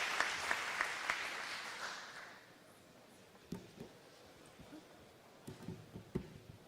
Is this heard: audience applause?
yes